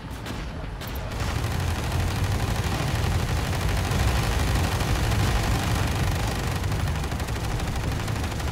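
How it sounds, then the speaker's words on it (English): Sustained, dense gunfire and artillery in the real-time strategy game Tom Clancy's EndWar during a WWIII assault on Istra, Russia, rolling continuously and loud after a brief quieter opening, with heavy low rumble throughout. "We open fire."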